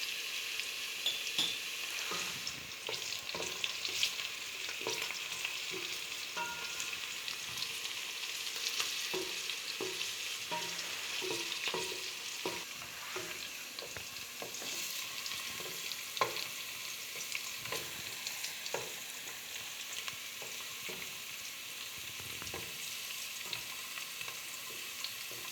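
Cumin seeds sputter and sizzle in hot oil in a home kitchen pan for aloo gobhi, a steady crackling fry with scattered sharp pops and light stirring clinks, close and continuous with no voices.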